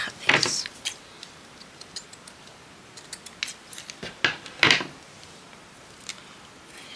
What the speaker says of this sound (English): Let's cut this.